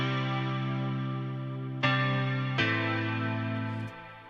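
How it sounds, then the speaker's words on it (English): Sustained 80s-style synthpop chords with a heavenly chorus modulation and a very large 4.8-second reverb shift through three chord changes, ringing out loud and alone before the tail decays. "I've gone into the pedal board and I've added a heavenly chorus to give that really nice 80s modulated effect"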